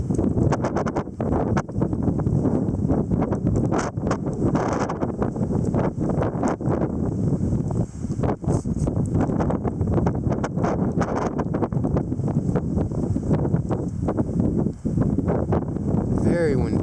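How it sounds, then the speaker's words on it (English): Strong gusty wind roars continuously outdoors during an April spring windstorm with dusty conditions, buffeting the microphone, while a person talks over the noise. "Very windy."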